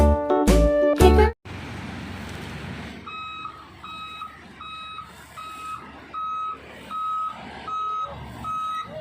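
A toy cement truck gives a short, loud rumbling burst, then emits a steady series of evenly spaced reversing beeps that repeat through to the end.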